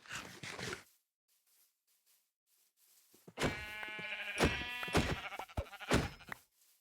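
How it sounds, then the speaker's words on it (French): Sheep bleat in the Minecraft video game, a brief call early on followed by several louder, overlapping bleats after a quiet gap, mixed with other game sounds. "Oh, des moutons!"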